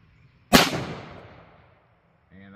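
A 1911 pistol fires a single Underwood 115gr Xtreme Penetrator round outdoors, one sharp loud crack with a decaying tail, followed by a faint voice beginning to speak.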